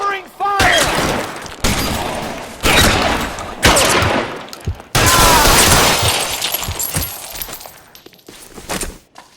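Loud gunfire in the LA Noire video game shootout: bursts of rapid shots with sharp cracks and ringing tails, pausing briefly between volleys and fading near the end.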